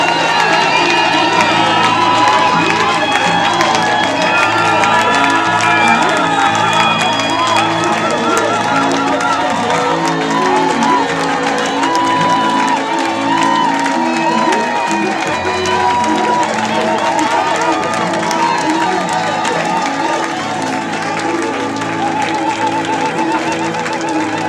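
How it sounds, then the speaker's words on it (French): A church congregation at a thanksgiving service shouts cries of joy, a dense, loud, continuous roar of many voices with whoops and cheering blending into one sustained wall of sound throughout. "Non, pousse d'abord des cris de joie."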